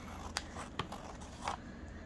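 Scissors snip through material for a glued collage craft piece: three brief, quiet cuts spaced apart over a soft background hiss.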